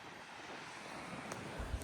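Steady wind rushes across the microphone out on the sea aboard a boat, a faint broadband roar with a couple of low buffeting gusts near the end.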